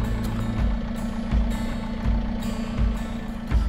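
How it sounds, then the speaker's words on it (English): Camper van engines idle with a low, steady rumble, close and continuous, while faint periodic thumps and rattles come and go over it. "So engines are running."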